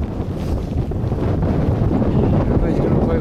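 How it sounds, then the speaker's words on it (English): Strong wind roars and buffets the microphone continuously on the snowy summit of Mount Rainier, a dense low rumble with gusty swells and no clear voices. "Well, it's just windy as shit."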